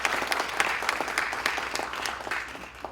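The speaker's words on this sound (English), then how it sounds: "could we get a round of applause for our brave young women up here" A crowd applauds a panel of young women at a discussion on women and feminism, producing brisk, close, continuous clapping with crisp individual claps standing out throughout.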